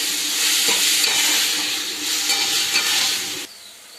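Salted chopped tomatoes sizzle and fry loudly in a pan while being stirred, a steady bright hiss with scraping stirs throughout that cuts off abruptly near the end.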